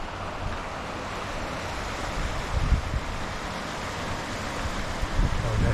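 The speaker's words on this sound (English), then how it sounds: "There's nothing like the sound of rushing water." Steady rushing creek water fills the whole stretch, a broad continuous roar with slight surges, close by and with no voices over it, in Tonto National Forest.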